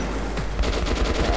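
Shotgun fire in the Metro video game, a dense burst of close, loud blasts and rattling impacts packed into a moment of combat.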